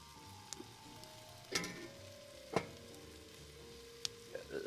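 Onions frying in a pot over a campfire give a quiet, steady sizzle, broken by a few sharp clinks and knocks from utensils.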